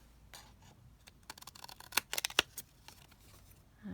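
Small scissors snipping through a paper postage stamp at a craft table, a quick run of faint, close, crisp cuts clustered in the middle, with no talking.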